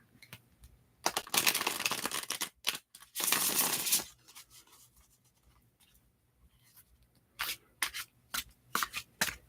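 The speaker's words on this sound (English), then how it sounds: "I will be done shuffling the cards very soon" Tarot cards being shuffled close up in a quiet room, with bursts of crisp riffling and softer scattered taps and slides between them.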